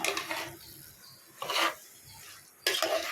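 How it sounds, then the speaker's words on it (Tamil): Marinated chicken sautés in oil for a chicken curry, with bursts of stirring and scraping in the pan and a sizzle between them. "ஒரு அஞ்சு நிமிஷம் நல்லா எண்ணெயில் வதக்கிக்கலாம்"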